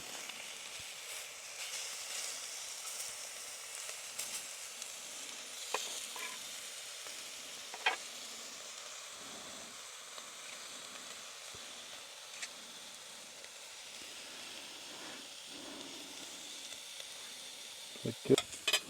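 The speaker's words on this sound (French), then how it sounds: "on se fait de la raclette avec un vieux rond de poêle" Raclette cheese sizzling on an old stove ring at an off-season campsite, a faint, even hiss with scattered crackles and a few louder knocks near the end, low and steady.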